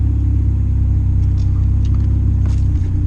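A turbocharged Honda CR-V engine running on E85 idles loudly and steadily up close, a deep continuous rumble with a faint whir above it and no talk.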